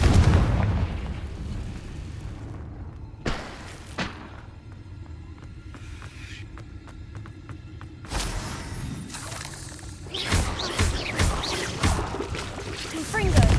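Confringo blasting curses in Hogwarts Legacy go off in several separate bursts, sharp crackling explosions spaced a few seconds apart, with quieter stretches between them and voices calling out over the action.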